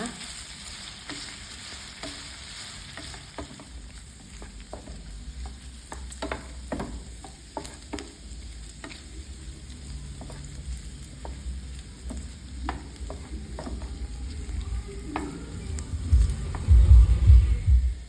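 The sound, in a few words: Chinese sausage frying in a pan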